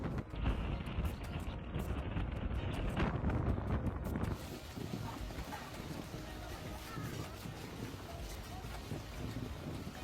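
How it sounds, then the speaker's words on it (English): Strong storm wind from a near-typhoon roars along the coast in Maoming, southern China, a loud steady rushing with gusty buffeting against the microphone throughout. "Along the coast, the wind whipped up clouds of dust, reducing visibility for drivers."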